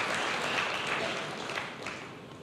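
Loud, lively applause from a church congregation, a dense burst of many hands clapping that swells early and then gradually tapers off.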